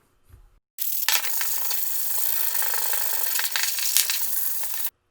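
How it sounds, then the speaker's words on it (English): A wooden turkey-fan plaque, including its bottom point, is sanded by hand with 100-grit and then 220-grit sandpaper. After a brief quiet start, a loud, continuous scratchy rasp runs steadily for about four seconds, close and alone. "Starting out with some 100 grit sandpaper, I sand the plaque and the bottom point down"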